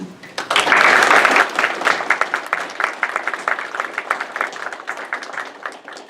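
Audience at a city council meeting in Norco applauds together, a loud dense burst of clapping that swells early, then continues in steadier, slightly thinner rounds until the end.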